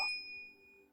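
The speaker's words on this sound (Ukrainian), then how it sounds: "Активований вами дзвіночок активує сповіщення про всі наші відео." A single bright bell ding for a notification, struck once and then ringing out in a clean sustained tone that fades within a second.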